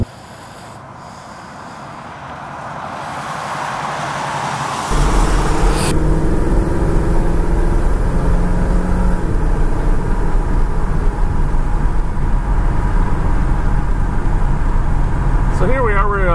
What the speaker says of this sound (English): we're just taking a little quick trip in the little Mustang here